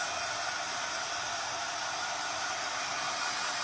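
A hair dryer blows steadily while drying torn paper for a sunflower book-stack craft, a constant close hiss of airflow with an even level and no voices.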